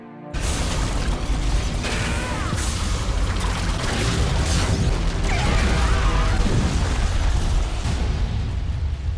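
In an anime, a body bursts apart and wrecks an entire room: a sudden loud blast followed by a long, dense, roaring rumble of destruction with crackling debris throughout.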